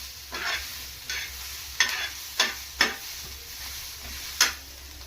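Onions fry in a pan until reddish brown, with a continuous sizzle broken by about half a dozen crisp spatula scrapes and taps. No one speaks.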